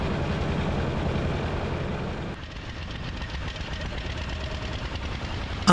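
The engine of a 1900 New Orleans veteran car runs steadily with a loud, continuous mechanical chug and rattle. The tone shifts slightly partway through but stays constant in level.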